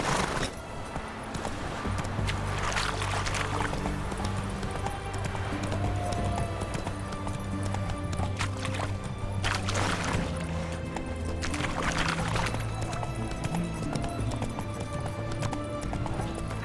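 The horse Roach gallops in The Witcher 3 game with a steady, rapid clip-clop of hooves throughout, layered over a continuous game soundtrack and ambience, with occasional brief vocal sounds.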